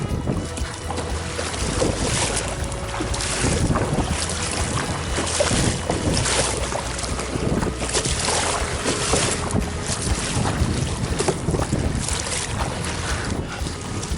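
Strong gusty wind roars against the microphone on a boat during windy bass fly fishing, a loud continuous rush with surging gusts and water noise underneath.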